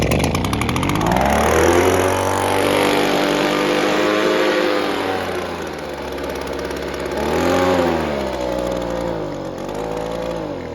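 An ECHO PB-200 leaf blower's two-stroke engine, fitted with a replacement carburetor, runs loud and close, its buzzing pitch rising and falling as it revs unevenly, with no talk.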